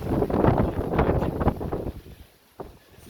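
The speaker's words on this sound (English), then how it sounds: "it's really windy" Gusty wind buffets and roars against the microphone, then drops away to a quieter hiss near the end.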